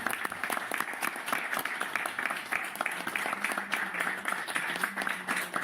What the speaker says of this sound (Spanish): Un aplauso enorme